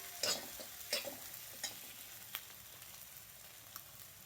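Ground onion-greens and roasted coconut paste roasting in a pan for a Vidarbha-style muthiya bhaji, soft sizzling with a few spoon scrapes early on, then a fainter steady fry.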